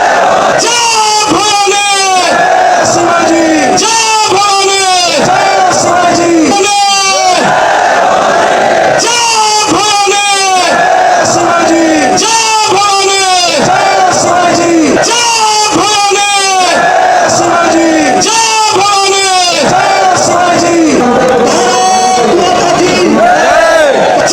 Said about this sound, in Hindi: उसके बाद फिर नारेबाजी शुरू हुई।